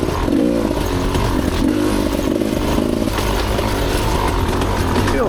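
Rieju Ranger motorcycle ridden along a single-track dirt trail, its engine droning loud and steady throughout with slight throttle variation and some rattling clatter from the rough ground.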